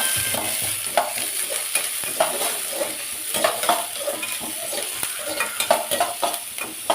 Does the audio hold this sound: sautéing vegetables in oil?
yes